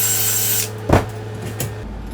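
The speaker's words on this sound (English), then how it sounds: "I gotta drill a hole through this thing." A power drill runs with a whining motor, then bites through a homemade kite reel with a short, loud grinding burst before spinning on briefly and stopping; no talking.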